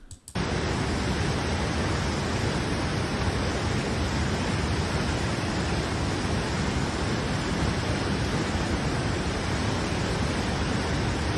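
Linville Falls on the Blue Ridge Parkway pours in a steady, dense roar of rushing water, loud and unbroken from near the cascade, with no voices over it.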